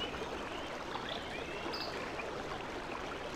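Shallow stream in the video game Syberia flows and trickles steadily, a constant close wash of running water with no speech over it.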